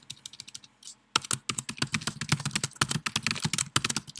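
Fast typing on a computer keyboard, a dense run of close, crisp key clicks after a brief lighter pause, no one speaking.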